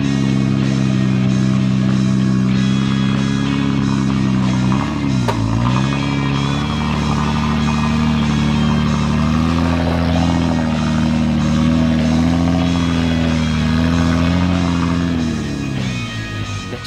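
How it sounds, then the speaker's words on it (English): A Toyota 75 series 4WD engine drones steadily and revs while climbing a steep hill on a hard off-road track, its low tone rising and falling throughout, with no talking. "Up is Papa Slug in the mighty 75 series Toyota"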